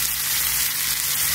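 Cauliflower florets and chili sizzle steadily in a pan over medium heat, a dense, continuous frying hiss heard close up with no voices.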